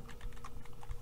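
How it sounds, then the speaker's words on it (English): Rapid typing on a computer keyboard, a quick, uneven run of soft clicks and key taps close to the microphone, quiet and without any speech over it. "And I just pressed caps lock for some weird reason."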